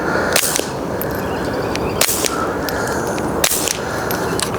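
Three sharp, cracking reports from subsonic rounds fired through a HUXWRX Flow 22 TI suppressor, evenly spaced about a second and a half apart, loud and close over a steady outdoor background hiss.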